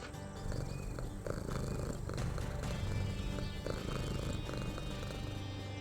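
A cat purrs steadily inside the video game Achilles: Legends Untold, a continuous rumbling purr layered over the game's music and ambience, loud and sustained throughout.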